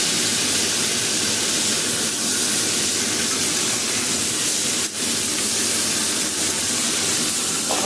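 Pumpkin and jackfruit seeds frying in a pan as they are stirred, a steady loud sizzling hiss throughout with a brief scrape partway through.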